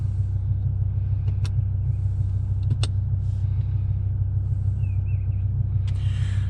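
The engine of a BMW E60 M5 sits at a warm-up idle, a deep, steady rumble held at a constant pitch, with a few faint clicks and ticks on top and no voices.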